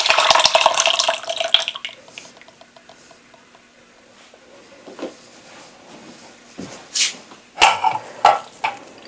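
Whey from homemade cheese curds pours and splashes into a colander at first, then settles into sparse, scattered drips and trickles in a quiet kitchen.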